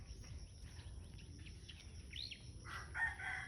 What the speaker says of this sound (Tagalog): Oh, di ba? Manok.